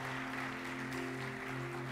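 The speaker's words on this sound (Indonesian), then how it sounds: "Nah, kasih tepuk tangan buat Tuhan." An audience at a youth church service claps steadily and densely, a continuous wash of applause over a low sustained hum.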